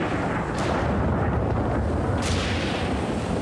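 Rumbling thunder from an electrical storm, heard from up a tree, rolls through a constant roar of wind and rain, with a couple of sharp cracks standing out.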